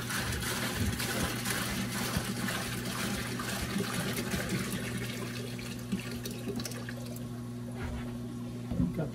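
Newly mixed RO saltwater from a tipped-over container pours into the sump tank of a home fish aquarium, a soft, continuous splashing and trickling over a steady low hum.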